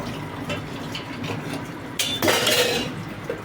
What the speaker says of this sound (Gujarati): વાસણ ઘસી દઈએ